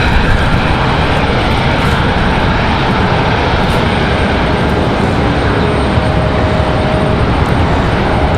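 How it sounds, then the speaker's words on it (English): An Airbus A220 jet airliner departs Raleigh-Durham International Airport, its engines a loud, steady broadband roar that fills the whole stretch without letting up. "perfect departure out of the A220"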